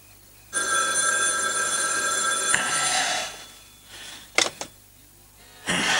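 A telephone bell rings in one long electronic burst, stops, and after a brief pause and a clunk of the handset being picked up, the call is answered.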